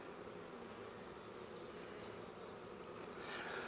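Dense, steady hum of a crowd of honey bees at an open hive loaded with pollen and brood, a continuous close drone that swells slightly louder at the end, with no voices.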